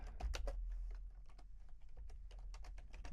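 Rapid, fairly close typing on a computer keyboard while entering a short line of text into an Excel spreadsheet; clicky keystrokes arrive in quick uneven bursts, and no one talks.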